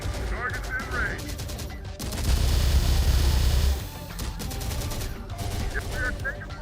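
Dense video game gunfire with rapid automatic bursts and a heavy booming barrage in the middle, voices occasionally breaking through the din.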